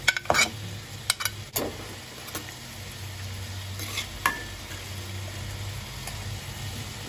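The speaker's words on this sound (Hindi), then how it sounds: "अब इसमें प्याज डालूंगी" Medium-sized chopped onion goes into about four tablespoons of hot oil, with clattering spoon scrapes and clinks at first, then a steady, soft frying sizzle.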